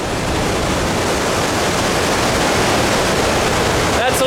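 Gullfoss waterfall in Iceland roars as a loud, continuous broadband rush of falling water, close and unbroken throughout, with no speech.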